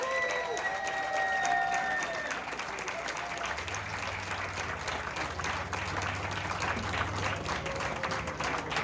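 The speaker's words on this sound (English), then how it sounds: "Let's do another round of applause for Rosie and Zerner." A rally crowd applauds speakers at a gathering supporting Israel and Jewish students, sustained dense clapping from many hands with some cheering voices, continuous throughout.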